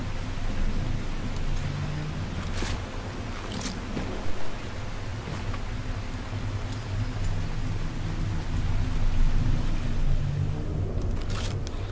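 Steady, hissing rain pours without a break in the video game The Last Caretaker, an even wash of noise that holds for the whole stretch with no voices.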